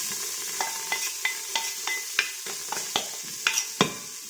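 Celery, carrot, onion and garlic sauté in an Instant Pot, a soft steady sizzle broken by a dozen regular scraping stirs of a utensil against the pot, close and unaccompanied by speech.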